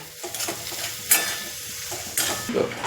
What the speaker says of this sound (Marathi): त्यावर घालूया थोडीशी कोथिंबीर बारीक चिरलेली हे छान परतून घेऊया